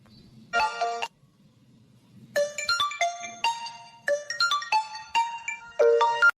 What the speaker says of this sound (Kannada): ರೀ, ನೀವು ಫೋನ್ ಹೆಂಗಾಗ್ತಿದೆ ನೋಡಿ.